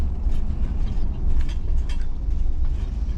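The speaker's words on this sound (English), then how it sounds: "the timing chain has been rattling in this vehicle for quite some time" A car engine with a rattling timing chain runs close by, giving a steady low rumble with a fast metallic chatter on top and no talk.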